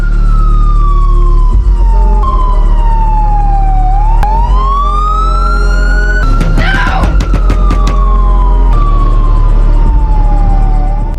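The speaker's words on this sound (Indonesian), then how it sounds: "Ellis pun senang saat mendengar suara mobil berpatroli" A police patrol car siren wails loud and close, its tone sweeping up and down in repeated cycles as the vehicle passes, with a brief burst of clatter midway.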